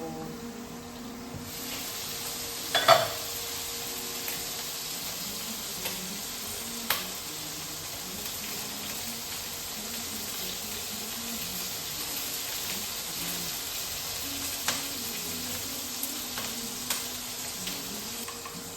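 Chili sizzling in hot oil in a pan as it is stirred, a steady frying hiss throughout with a few sharp utensil clinks against the pan, no talking.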